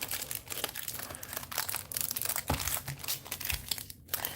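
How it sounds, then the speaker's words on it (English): Small clear plastic baggies crinkle and rustle continuously as craft party favors are packed into them, a close, steady crumpling with a few sharper crunches and no talk. "I'm putting them in these little plastic baggies"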